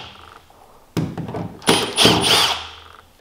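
Power tool working on the intake grate of a 1995 Sea-Doo XP800 jet ski, with a few clattering knocks followed by a loud, close whirring burst that lasts over a second before stopping.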